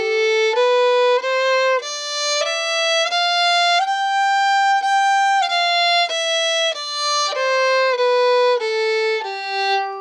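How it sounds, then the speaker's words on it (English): A fiddle plays an old-time A Mixolydian scale, bowing clear single notes stepwise up and then back down at a steady pace, each note bright and sustained, with no talking. "So this first scale is called a Mixolydian scale,"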